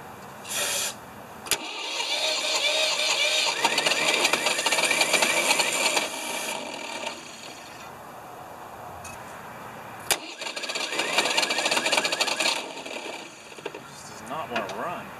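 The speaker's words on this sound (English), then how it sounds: "Let's see if it'll start on brake cleaner." A Ford 2600 tractor engine cranks over on brake cleaner, with bursts of starter whirring and sputtering that catch briefly then die, separated by pauses, close and moderately loud.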